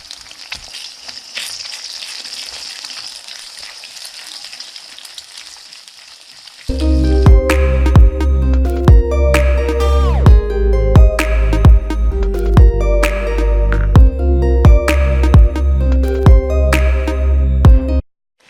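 Egg Maggi noodles sizzle and crackle steadily in a pan, a continuous frying hiss alone for several seconds before loud music takes over and buries it.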